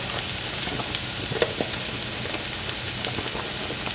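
Onions sizzle and crackle in a hot pan with butter and garlic, a dense, even frying hiss sprinkled with small pops, steady and close throughout with no voices.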